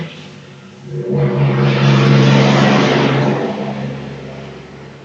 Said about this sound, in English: here's a big truck